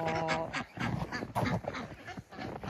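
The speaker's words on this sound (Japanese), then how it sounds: "アヒルかわいいですね" A duck gives a string of rough, honking quacks in uneven bursts, nearby and fairly loud, with no clear talking.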